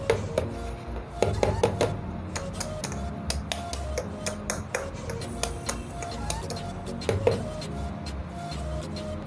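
Cake tin filled with batter tapped down repeatedly on a surface to knock out air bubbles, a series of sharp irregular knocks and clatters over a faint background hum.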